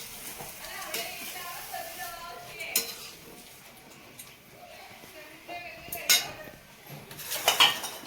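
A spoon scrapes and clinks against a pan while food is stirred during home cooking for a Navratri meal, with several sharper metallic clinks and faint voices nearby.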